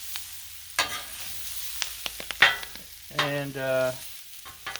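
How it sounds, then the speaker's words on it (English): Collard greens are stirred as they fry on a Blackstone griddle, with sharp scraping strokes of a spatula over a low sizzle. Brief speech is heard. "Give it a good stir."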